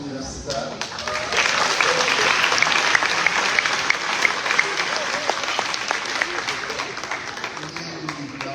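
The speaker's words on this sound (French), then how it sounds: "On applaudit nos universitaires." A graduation ceremony crowd breaks into sustained, dense applause after a graduate is named, clapping loud and continuous for most of the stretch, with a voice faintly present beneath it.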